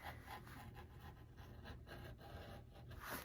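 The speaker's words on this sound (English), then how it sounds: "So now I just need to trim up this little corner that I cut." Scissors or a blade trim the corner of a cork fabric bag piece, making faint, close, repeated rubbing and rasping snips in an irregular rhythm.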